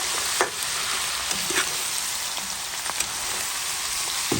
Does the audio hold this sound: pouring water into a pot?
no